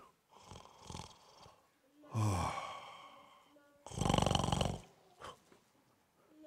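A voice imitates an old man snoring quietly in his sleep: soft breathy snorts, then two longer, rougher snores with quiet pauses between them.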